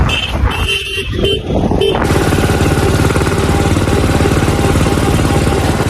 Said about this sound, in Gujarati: ટ્રેક્ટર જાય છે તો આપણે એની વાહે જઈએ.